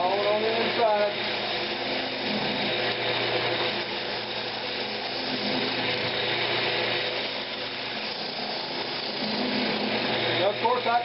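A wooden bowl being hollowed on a lathe gives a steady, close, continuous scraping and whirring roar that holds for the whole stretch with little change, with a hint of voice underneath.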